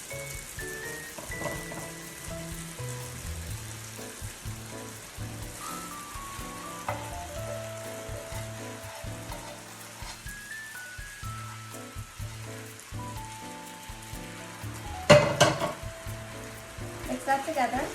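Vegetables stir-frying for japchae, the Korean dish of stir-fried noodles with vegetables: a steady low sizzle runs under music throughout, with a brief louder burst of activity near the end.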